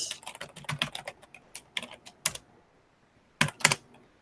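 Typing on a computer keyboard into a Commodore 64 emulator, with bursts of quick, close keystrokes, a pause of near silence, then a few more sharp clicks, with no voices.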